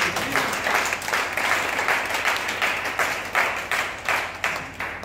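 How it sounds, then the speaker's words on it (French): A church congregation claps and applauds for the Lord in a sustained, dense burst of clapping that fades slightly in rhythmic waves toward the end. "Acclame pour le Seigneur ce soir"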